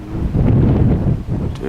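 Wind gusting across open ground at Volcanoes National Park on Hawaii's Big Island, a steady broad roar buffeting the microphone throughout, swelling mid-clip and easing briefly near the end.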